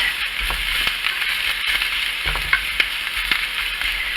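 Onions cooking down in a frying pan, a steady close hiss of sizzling with occasional light taps and scrapes of a utensil, no talking.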